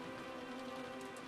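Steady rain hisses in the video game Umineko When They Cry, a faint, continuous wash of falling drops with no gaps and no talk.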